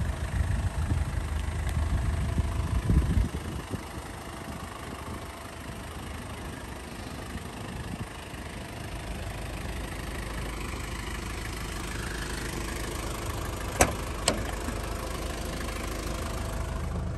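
A 1995 Mazda Bongo Friendee 4WD turbo diesel camper van engine runs with a steady, low idling rumble. The rumble is slightly louder for the first few seconds, and a couple of faint clicks come near the end.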